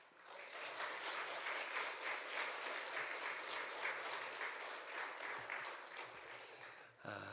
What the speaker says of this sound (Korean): 나오실 때 큰 박수로 같이 환영하며 축복하면 좋겠습니다.